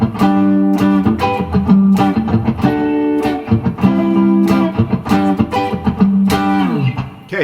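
Guitar chords of a song played in pure Ionian mode with G kept in the bass, a rhythmic strummed progression of bright chord hits, close and clear with no voice.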